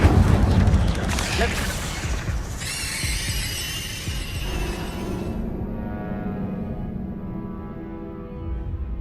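An Incendio fire spell bursts in Hogwarts Legacy as a booming, roaring eruption that crackles and fades over several seconds, with a brief ringing shimmer partway through and another swell at the end.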